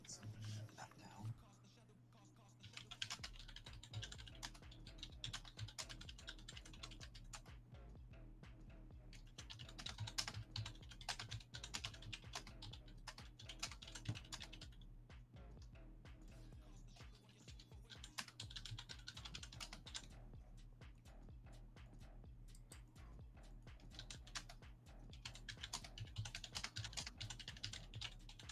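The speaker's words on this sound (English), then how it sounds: "really loud keyboard too" A loud computer keyboard clatters almost nonstop during an online MINDNIGHT tournament match, rapid bursts of keystrokes with brief pauses, heard alongside voice-chat talk.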